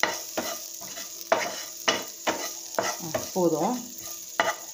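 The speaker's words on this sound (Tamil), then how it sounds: "இப்போ அந்த ஆயில் இந்த வெங்காயத்தை லைட்டாக போட்டு பரப்பிக்கலாம்" Sliced onions are spread lightly in oil in a pan for a homemade prawn pizza, sizzling softly while a utensil scrapes and taps in a series of sharp, close strokes; one brief word is spoken.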